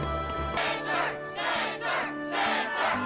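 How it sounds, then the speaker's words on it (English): Crowd in the Kingdom Hearts 2 video game cheering in rising and falling swells, several loud roaring bursts over a steady musical backdrop, no talk. "the crowd is fired up"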